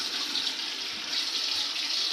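Tap water runs in a steady, even stream while a beard is being wetted, close and continuous with no talking.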